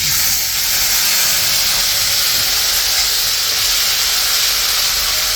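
Ginger paste hits hot oil in a kadai with whole garam masala, cumin, bay leaf, cardamom and cloves, bursting into a loud, continuous bright sizzle and hiss that stays strong and close throughout.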